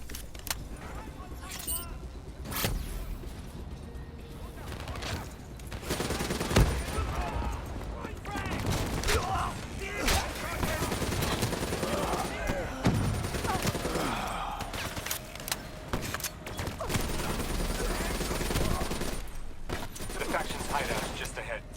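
Call of Duty: Black Ops III gameplay gunfire crackles in repeated bursts and volleys over a dense, steady game soundtrack, with voices speaking throughout.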